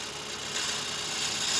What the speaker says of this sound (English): it's not cutting at all. The gouge is now completely blunt again after those couple of cuts.